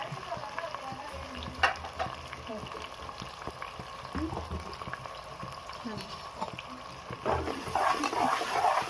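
Curry leaves, crushed ginger and dried chilies fry and crackle in hot oil while being stirred, a busy bubbling sizzle with scattered spatters and spoon scrapes, growing louder toward the end.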